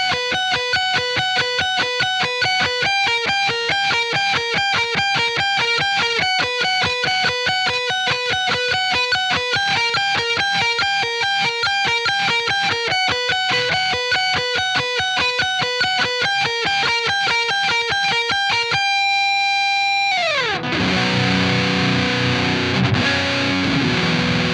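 A crunchy, saturated electric guitar plays steady repeated chords and notes through a high-gain amp for about twenty seconds, then breaks into a noisy, fizzing wash.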